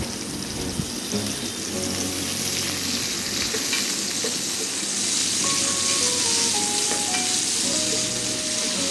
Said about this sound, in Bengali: এরপরে দিয়ে দিব আমি পেঁয়াজ কুচিগুলো তারপরে হালকা আছে এগুলোকে আমি একটু ভাজবো